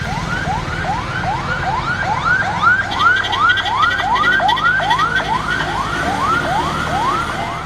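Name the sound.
ambulance siren wailing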